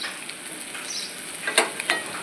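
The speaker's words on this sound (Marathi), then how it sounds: "जेवढी तोंडली चिरलेत ना तेवढी मी तेलात चांगली फ्राय करून घेते" Chopped ivy gourd (tondli) frying in hot oil gives a steady close sizzle with a few sharper crackles and pops near the end. No voices.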